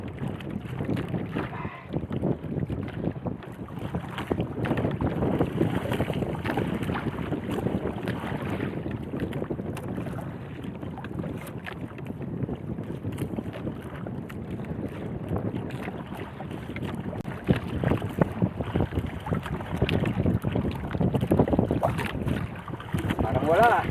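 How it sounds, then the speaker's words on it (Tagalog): Strong wind buffets the microphone while people fish from a small boat on open water, a continuous rumbling roar with gusts surging throughout, under occasional talk. "Malakas yung hangin."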